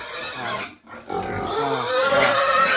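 Crossbreed native pigs grunt close by in a pen, a brief dip in the middle, then low, repeated grunts layered over one another at steady loudness until the end.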